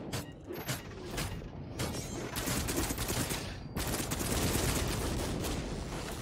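A deployed turret in The Cycle video game fires at creatures in rapid mechanical bursts, a rattling, clattering stream of shots with short gaps, moderately loud amid game noise.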